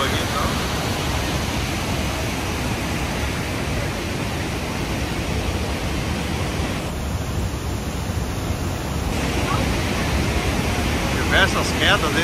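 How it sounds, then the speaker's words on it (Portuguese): Iguaçu Falls, with more than 265 mapped waterfalls, roaring as a dense, steady, loud rush of falling water that fills the whole clip, with a voice faintly mixed into the constant noise. "essas quedas, mais de 265 quedas mapeadas."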